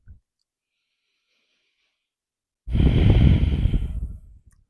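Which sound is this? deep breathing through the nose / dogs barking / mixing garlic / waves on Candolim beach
deep breathing through the nose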